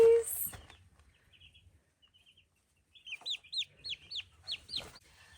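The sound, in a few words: two-day-old turkey chicks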